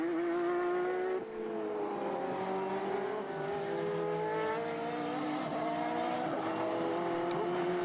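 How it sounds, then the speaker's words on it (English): Lola single-seater race cars from Formula BOSS Ireland circuit racing lap at speed, their engines droning loud and steady, with a tire squeal and a brief dip as one car fishtails, and no talk over the engine noise. "A little fishtail from Sam reminds us how hard these Lolas have to be pushed to keep this pace."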